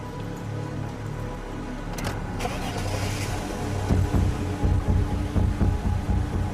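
A car being driven at a steady engine hum, with rhythmic thumping and road rumble building toward the end, no voices.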